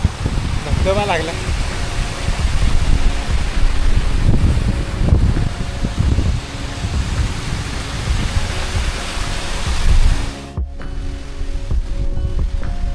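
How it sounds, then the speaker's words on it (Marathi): A waterfall on a mountain trek to Kalavantin Durg gives a constant broad rushing roar, close and loud, with a brief voice early on and footsteps or handling noise throughout, dipping briefly near the end. "धबधबा लागला."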